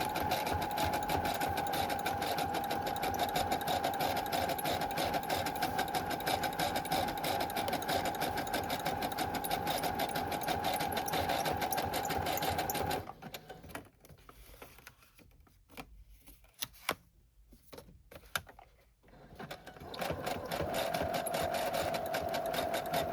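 A sewing machine stitches along the edges of a paper dust jacket for a handmade journal, running in a steady, loud whirring burst for about thirteen seconds, falling quiet for several seconds, then starting up again near the end.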